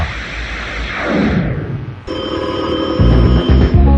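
Telephone ringing effect for a radio station phone-in prize promo, loud and bright, with a sharp burst of ringing that changes midway and ends in heavy low thumps.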